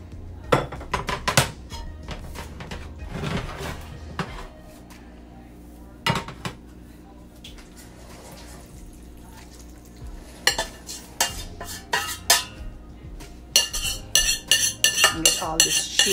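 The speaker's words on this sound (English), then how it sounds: "I'm going to go ahead and transfer it over to my oven safe dish." A spoon scrapes and clinks against a pot as oven-baked mac and cheese is moved into an oven-safe dish, with scattered loud scrapes and knocks, then a rapid run of metallic clinks.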